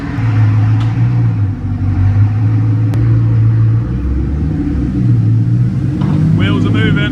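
A Bugatti Chiron runs just after starting on a low battery while its gears are tested, a loud, steady engine rumble with a few swells, ending in a brief burst of voices.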